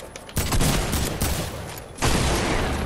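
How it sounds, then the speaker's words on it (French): Shotgun fire in the video game Fortnite: loud, close blasts in quick succession with dense crackling bursts, cutting in sharply and continuing in waves. "Vas-y, tire sur sa pompe-feu,"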